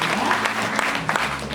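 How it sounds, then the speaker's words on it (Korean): Audience applause welcoming a guest at a book launch event, a steady burst of clapping from a crowd filling the room throughout, fairly close. "박수로 한번 먼저 인사를 드릴까요?"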